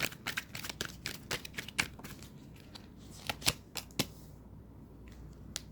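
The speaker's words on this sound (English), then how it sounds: "let me give it one more shuffle here" A deck of tarot cards is shuffled by hand up close, giving a quick, uneven patter of crisp card clicks and flicks that thin out toward the end.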